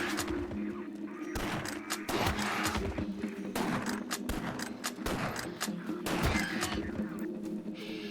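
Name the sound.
rifle gunfire in the video game Silent Hill: Downpour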